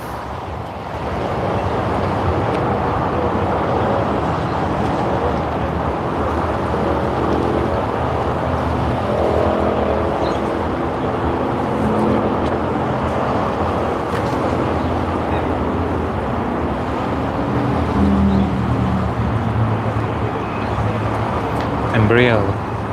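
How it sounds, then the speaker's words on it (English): A jet airliner at Sydney Airport on its takeoff roll, a steady, broad engine roar holding loud and even throughout, swelling slightly near the end, with a voice talking over it. "Right, the takeoff roll has begun."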